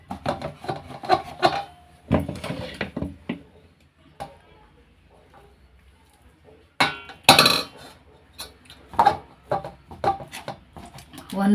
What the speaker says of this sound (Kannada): ಸ್ಟೀಲ್ ಡಬ್ರಿಗೆ ಹಾಕ್ಕೊಂಡು ಈ ಥರ ಮಿಜ್ತಾ ಇದ್ದೀನಿ